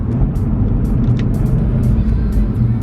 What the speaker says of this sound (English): if I put it into manual right now, we're in second gear, you ready? Downshift.